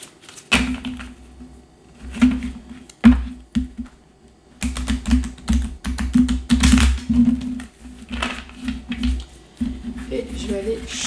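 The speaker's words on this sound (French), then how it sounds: "Je vais mélanger les cartes." Playing cards being shuffled and handled during a French tarot reading, giving soft irregular flicks and taps that come in short bursts under a steady speaking voice.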